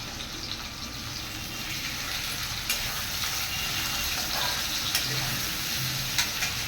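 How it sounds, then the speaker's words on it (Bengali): Beetroot fries lightly in a pan after a spoonful of ginger goes in, a continuous low sizzle with occasional faint clicks from stirring. It is close and steady, with no talk. "দেখো একদম হালকা করে ভেজে নিয়েছি। এবারে আমি 1 চামচ আদা দিয়ে দিলাম।"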